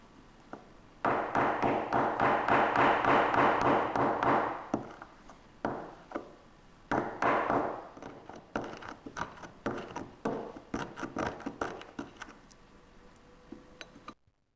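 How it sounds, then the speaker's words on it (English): Ferrous sulfate iron tablets ground in a mortar with a pestle, with sustained gritty scraping in two long stretches followed by a series of close, sharp taps and knocks. "The two tablets were ground up using a mortar and pestle."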